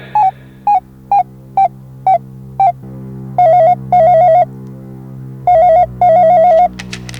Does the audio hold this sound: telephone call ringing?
yes